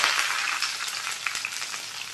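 Onions and curry leaves sizzle in hot oil in a pan, a dense, continuous crackling fry with small bright pops, heard close and on its own.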